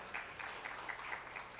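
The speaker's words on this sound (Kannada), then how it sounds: "ಹೊಡಿರಪ್ಪ ಚಪ್ಪಾಳೆ" Audience clapping at a state-level Kannada conference of human resources professionals, a faint, brief patter of scattered hands heard from a distance.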